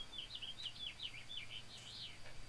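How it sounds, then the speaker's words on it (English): Birds chirp outside a window in the morning, a quick run of bright, fairly faint tweets repeating over soft background hum. "Can you hear the birds?"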